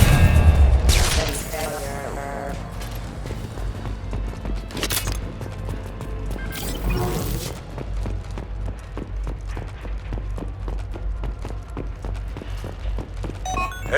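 Gunfire in the video game Mass Effect, a loud burst of shots at the start followed by a steady rhythmic stream of rapid reports over a game soundtrack, with occasional talk.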